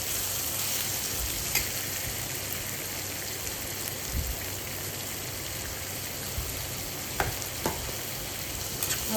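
Onion and crushed garlic cloves sautéing in a pan over medium heat, a dense continuous sizzle like steady rain, with a few faint clicks of stirring, close and without voices.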